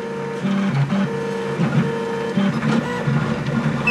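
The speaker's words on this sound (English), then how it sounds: "hear it with all the racket from the stepper motor." Stepper motors on a CTC I3 Pro B 3D printer whir and buzz in a choppy, stuttering pattern of short tonal bursts, close and steady throughout.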